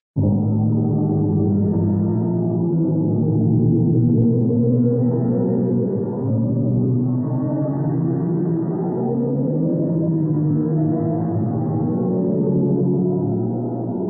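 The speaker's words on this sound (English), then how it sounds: "the sound of a black hole modified for human hearing" A black hole's signal sonified for human hearing: a deep, droning, otherworldly hum with slowly shifting low tones, steady and loud throughout, like an eerie synthesized moan without any voices.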